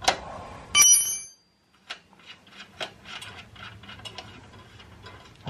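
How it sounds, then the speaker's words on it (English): A wrench works the 12 mm rear axle nut on a Honda Super Cub C125, giving a bright metallic clink followed by a series of light ratcheting clicks and small scrapes, close by. "Now, you gotta remove the nut. Nut is a 12 millimeter."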